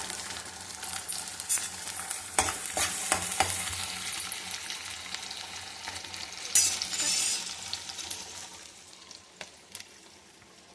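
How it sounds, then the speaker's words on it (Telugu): Broad bean pods frying in a pan with onion and seasoning, a steady close sizzle broken by several scraping stirs, with no one talking. "ఉల్లిపాయలు తాలింపు అన్నీ వేస్తున్నారు."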